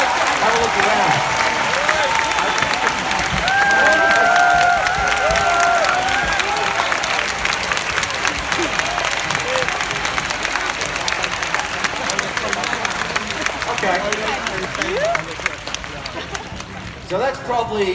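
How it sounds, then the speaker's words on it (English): A large conference audience at a corporate strategy event breaks into sustained, loud applause and cheering for first-time attendees standing up, filling the hall with dense clapping and crowd noise that gradually thins toward the end. "Now let's give them a bigger round of applause."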